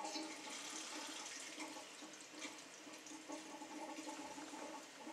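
Water rushing steadily into a reverse osmosis filter cartridge, a constant hissing gurgle of filling water heard close up.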